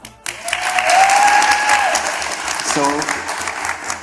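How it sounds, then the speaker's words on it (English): Live studio audience applause at a leadership talk show, a loud sustained wash of many hands clapping that starts abruptly and holds steady, with a brief spoken word over it. "They're here for their claps."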